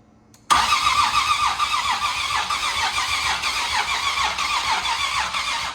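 A Nissan VQ37VHR V6 fitted with a top-mount single turbo kit cranks over without firing, giving a steady, close starter whir with a rhythmic pulsing beat that runs throughout, with no voices.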